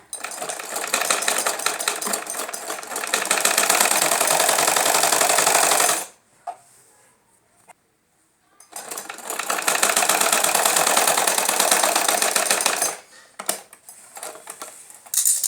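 Sewing machine stitching the seat panel (aasan) of a belt-style salwar, running in two long, steady whirring bursts of about six and four seconds separated by a short pause, close and loud with no talking.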